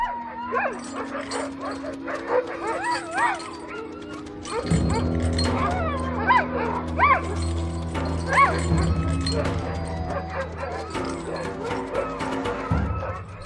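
A pack of sled dogs on Arctic ice barks, yips and whimpers continuously and fairly close, with overlapping excited calls and occasional metallic chain clinks.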